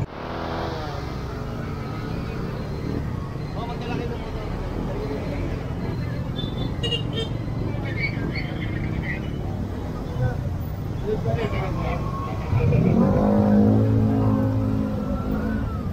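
A tow truck's engine rumbles steadily in busy street traffic where vehicles are being cleared from a blocked roadway, revving up louder near the end, with people talking throughout.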